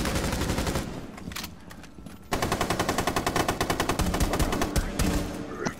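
Rapid automatic gunfire in Rainbow Six Siege rattles out in dense, rhythmic bursts, with a short lull before a loud sustained stretch of shots.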